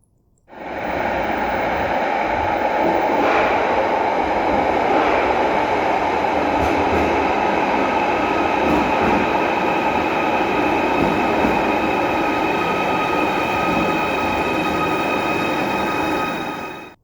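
An underground train on Merseyrail's inner loop line in Liverpool rumbles steadily through a tunnel under the Mersey, a loud continuous roar with faint wheel squeals and clatter, sustained throughout with no voices.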